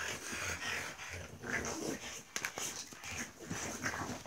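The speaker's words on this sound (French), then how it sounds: "Si vous entendez grogner dans pas longtemps, c'est que Margot essaie de prendre le dessus sur Marvin" Two dogs play-fighting, giving low growls, snuffles and panting through a continuous scuffle, close by and moderately loud, with faint human voices mixed in.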